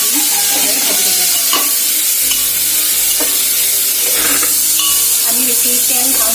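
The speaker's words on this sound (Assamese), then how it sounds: "এইখিনি যেতিয়ালৈকে বাদামী ৰঙৰ হয় তেতিয়ালৈকে আমি এইখিনি ভাজি থাকিম" Chopped onions frying in a little oil for instant pulao, a loud continuous sizzle with stirring scrapes and intermittent clinks of a utensil against the pan, close and steady throughout.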